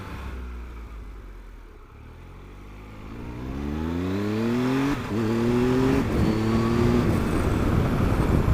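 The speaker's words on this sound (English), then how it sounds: "That quick shifter, you can feel it's a soft gear change." A Triumph Tiger 1200 Alpine Special Edition motorcycle accelerates hard, its engine note rising through several smooth quick-shifter gear changes, loud and close, with steady wind rush and no talk.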